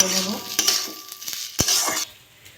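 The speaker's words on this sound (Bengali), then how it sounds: "আমি এবার চালটা দিয়ে দেবো" Gobindabhog rice is stirred as it fries in hot ghee in a pan: a few quick scraping, clattering strokes over a soft sizzle, fading out after about two seconds.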